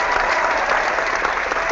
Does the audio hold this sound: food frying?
no